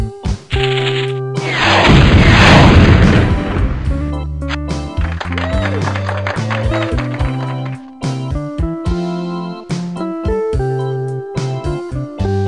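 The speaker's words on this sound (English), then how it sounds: "Launch and explode all three missiles." Missiles explode in the puzzle game Return of The Incredible Machine: Contraptions, a loud, rumbling blast over tonal game music, followed by a series of smaller crashing impacts as the music continues.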